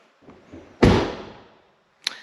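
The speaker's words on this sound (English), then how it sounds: "You simply close the door" Tesla Model 3 car door swung shut with one solid thunk, close and clear, followed by a softer click a moment later.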